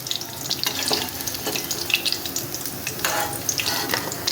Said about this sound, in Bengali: এইভাবে আমি সব কোপ্তাগুলো ভেজে নেব আস্তে আস্তে